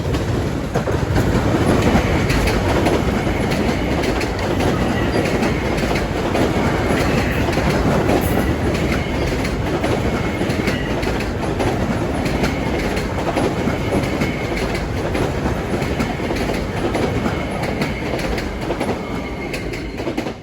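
Long Island Rail Road train 1617 rolls past Nassau Tower in Mineola, a loud steady rumble with rhythmic clickety-clack of wheels over rail joints and faint wheel squeal, close by and continuous throughout.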